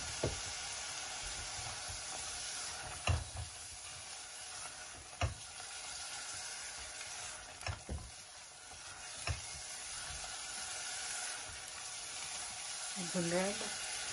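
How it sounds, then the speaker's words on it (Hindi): Masala frying in oil in a pan, heard as a low steady sizzle with repeated sharp scrapes of stirring and a faint voice near the end. "भुन रहा है, ऑयल छोड़ दिया इसने, मसाला भुन चुका है अच्छी तरह।"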